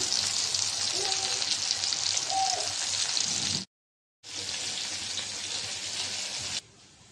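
Onions sizzle loudly and steadily in hot oil in a pan for a potato chicken curry, with a brief gap in the sound and a softer sizzle at the very end.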